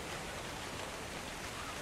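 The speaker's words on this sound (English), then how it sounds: "Oh look, it's raining." Steady, even hiss of rain falling in the survival game Ark: Survival Evolved, a continuous wash of droplet noise that holds constant and close throughout, with no voices.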